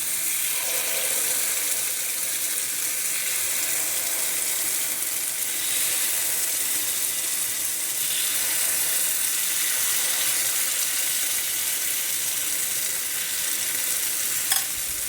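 Appe batter sizzles steadily in a hot appe pan, a continuous close hiss and crackle of frying with no voices.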